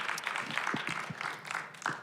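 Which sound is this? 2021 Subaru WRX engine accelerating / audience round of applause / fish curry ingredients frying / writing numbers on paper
audience round of applause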